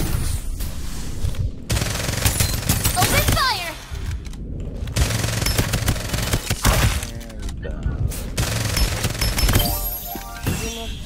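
Gunfire in the Farlight 84 battle royale video game, repeated bursts of automatic weapon fire and sharp shots with shattering impacts, loud and close, coming in several rapid volleys separated by short gaps.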